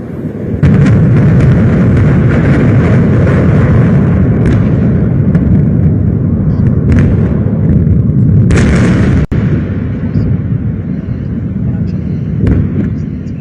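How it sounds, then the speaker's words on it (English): Replayed news footage of missile strikes, with loud rumbling explosions and booming impacts over a continuous roar, and a sharp burst near the middle, heard without clear talk. "There's an explosion there, an explosion there. Maybe a direct hit by one of the missiles."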